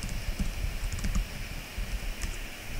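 Quick, light taps on a computer keyboard entering an administrator username and password, a short burst of irregular close clicks at low volume.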